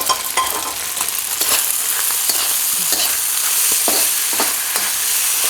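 Scrambled egg is stir-fried into pork fried rice in a hot pan, giving a steady loud sizzle with repeated scraping and stirring strokes close up and no voices.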